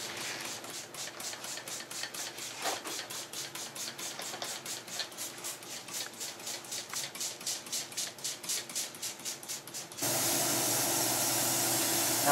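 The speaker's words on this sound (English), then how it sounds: "I'm spraying a very thin mixture of black paint on the entire scene" A very thin black paint mix is sprayed from an airbrush over a model railway scene with ballast, giving a faint rapid pattering hiss in quick regular pulses, then a steadier, louder continuous hiss for the last couple of seconds.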